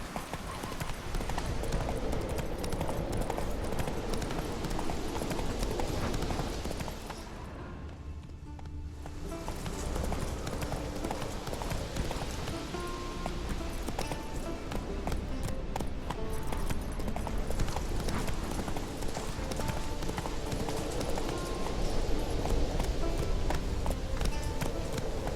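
Hoofbeats of Geralt's horse Roach galloping in The Witcher 3, a steady rapid clip-clop running throughout under dense game sound and music, with a brief dip partway through.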